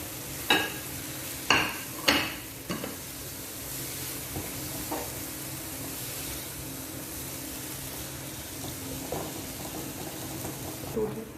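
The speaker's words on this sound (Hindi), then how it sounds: "पहले हम एक प्याज और शिमला मिर्च डाल देंगे। इसको थोड़ा सौते करेंगे" Onion and capsicum sauté in a pan with a steady, soft sizzling hiss, opened by a few sharp clatters of stirring, then a fainter continuous fry.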